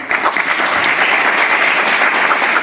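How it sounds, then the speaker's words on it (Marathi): Audience at a Shivaji Maharaj lecture in Dongargaon claps together, a dense, steady burst of applause that holds at full strength for a few seconds. "जिथं आवडलं तिथं टाळ्या वाजवल्या"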